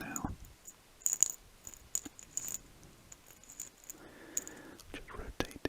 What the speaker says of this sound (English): I've realised it makes a really good sound when you flip it over. I'll try and do it next to the mic now.